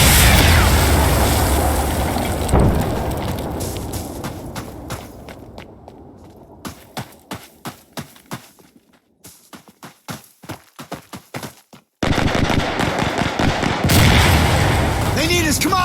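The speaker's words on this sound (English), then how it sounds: "Mortars incoming!" Incoming mortar explosions and gunfire in the game Insurgency Sandstorm, heavy booms and rumbling blasts followed by a dry run of rapid sharp shots, then a loud sustained roar.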